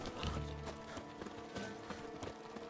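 Horse hooves clip-clop in The Witcher 3, a steady run of sharp, evenly spaced hoof strikes over a busy game soundscape with music and ambience, fairly close and loud throughout.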